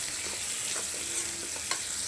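Onions frying in a pan until deep brown for a dal tempering, a soft steady sizzle with a few light stirring scrapes and clicks, fairly quiet and without speech.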